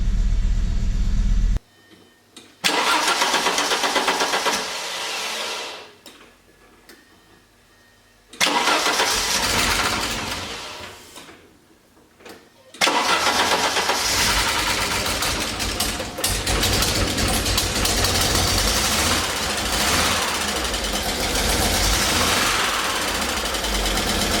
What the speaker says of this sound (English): It's running. Not great, but it's running. Got a pretty heavy miss.